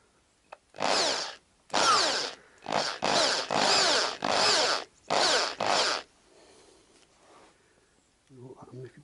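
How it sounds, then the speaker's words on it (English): A power drill whirs in repeated bursts of a few seconds each, loud and close, stopping and restarting about six times during work on a Yamaha XJ900S motorcycle project, with a quieter sound and faint voices after it stops. "Don't even know if my drill's got hammer on it or not."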